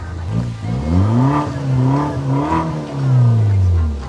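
Red BMW engine revving close by, a deep roaring note that rises and falls in several swells before a final long rev, with no talk over it.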